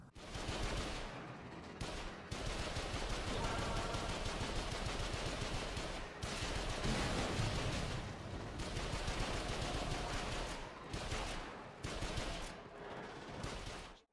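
Sustained gunfire in Warframe aimed at a shield generator cap on the Balor Fomorian, a loud, dense stream of rapid shots broken by a few short pauses, with no talking.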